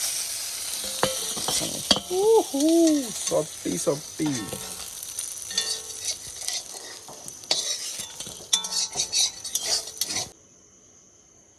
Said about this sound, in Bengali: মাছ ভাজা হয়ে গেছে এখন নিবেদি আর মাছটা উঠাই দিই